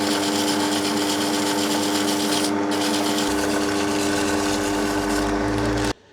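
Sandpaper rubs back and forth over the wooden cabinet of a Paillard 3610B Swiss radio, smoothing and leveling a repair to match the original profile, a steady close rasping that stops abruptly near the end.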